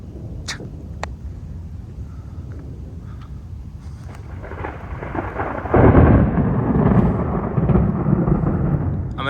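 A Houston thunderstorm in which rain hisses steadily while distant thunder rumbles, and then a loud, close crack of thunder breaks out and rolls on heavily as the downpour continues.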